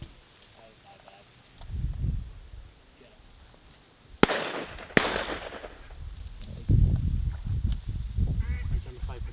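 Shotgun blasts during an early October public-land duck hunt in South Dakota, two sharp close reports about a second apart amid outdoor wind and people talking before and after.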